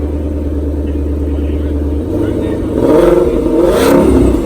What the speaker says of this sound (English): you can hear this unique Shelby Mustang roar